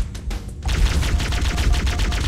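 Gunfire in Halo: Combat Evolved: a few separate shots, then a loud, rapid automatic burst with an even fast rhythm, close and continuous, and no talk over it.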